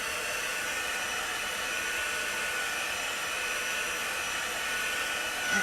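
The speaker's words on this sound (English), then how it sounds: "Just watch when you're drying that you're not hitting your transfer" A dryer blowing air over a chalk transfer, giving a loud, steady, close whoosh that holds unbroken throughout.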